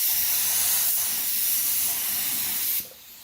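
Spray gun painting a Fox Body Mustang during a restoration, a steady close, loud hiss of atomized paint and air running continuously for nearly three seconds before cutting off.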